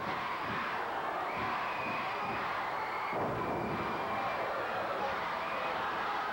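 A large professional wrestling arena crowd roars and murmurs continuously during a tag-team match, a broad wash of cheering noise with a slight swell partway through.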